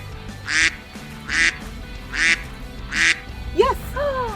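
A white duck among chickens quacks four times in an even rhythm, loud and close, then gives a few quicker, higher calls.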